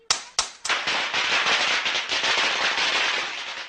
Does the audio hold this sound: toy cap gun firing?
yes